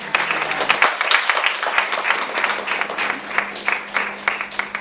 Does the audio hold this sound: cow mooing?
no